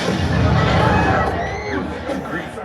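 Crowd cheering and chatter from the Muppets show audio on Disney's Hollywood Studios' Rock 'n' Roller Coaster, a loud steady roar of voices that eases slightly toward the end.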